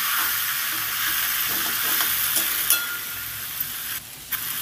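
Taro, potato and prawn curry being sautéed in a pan, a continuous hissing sizzle with a few sharp clicks and knocks from stirring, briefly dipping near the end.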